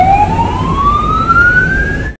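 A toy ambulance siren, a single loud electronic tone sweeping steadily upward for about two seconds over a rumbling background, then cutting off abruptly.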